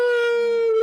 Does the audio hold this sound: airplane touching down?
no